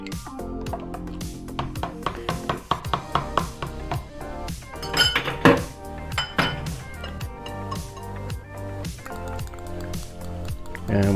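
Homemade Belgian waffle batter with melted butter being stirred in a bowl, giving irregular clinks, scrapes and wet squishing, with a stronger clatter midway, and some speech mixed in.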